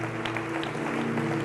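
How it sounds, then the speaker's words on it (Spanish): A church congregation applauding during a sermon, with steady, sustained clapping throughout over a constant low hum. "dale un fuerte aplauso al Señor"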